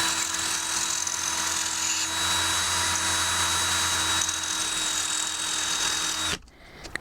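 A cheap drill sharpener grinds a drill bit seated in a guide groove, giving a steady high-pitched motor whine with a constant gritty grinding rasp for about six seconds before it cuts off abruptly.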